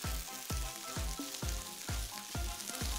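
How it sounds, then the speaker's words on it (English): Samosa filling with fenugreek leaves is stirred in a hot pan, with close, quiet sizzling and a regular scrape of the spoon roughly every half second, six or seven strokes in a row. "Now that everything is in there, we will stir it."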